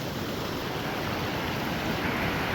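Mountain river rushing at a bridgeless trail crossing on the Valley of Flowers and Hemkund Sahib trek, a steady broadband roar of flowing water that stays loud and unbroken throughout, with no voices.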